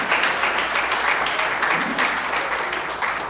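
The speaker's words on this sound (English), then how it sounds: "If we could give a round of applause to Ryan Garino, who's run the show today." Audience applause at a golf classic dinner ceremony, a sustained burst of clapping from a crowded room, fairly loud and steady before gradually thinning out.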